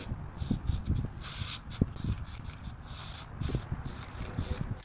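Tamiya TS31 Bright Orange spray paint hissing onto plastic Halloween costume glasses, in short repeated bursts with faint handling noises between them and no talking.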